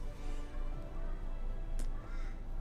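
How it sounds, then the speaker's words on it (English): A few faint, distant crow caws sound briefly over a low background hum. "The crows are coming, yep"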